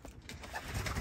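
White pigeons coo softly in a breeding loft, a brief low murmuring burble against faint background rustle.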